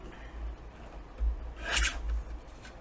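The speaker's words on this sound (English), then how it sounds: "And then I'm going to trim this down." Paper is trimmed for a mini file folder, making scraping, rasping cuts with a sharper burst midway, close and moderately loud.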